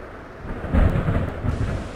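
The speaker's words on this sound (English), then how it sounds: "oh, there's a storm" A deep rolling rumble of video game thunder, from a Roblox game, swells and lingers over a steady wash of rain, loud and close.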